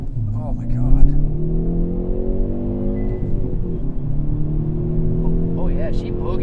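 A manual 2021 Hyundai Veloster N accelerates from inside the cabin, its engine note climbing steadily through a gear, dipping briefly at a shift, then rising again. Loud and continuous, with occupants talking over it.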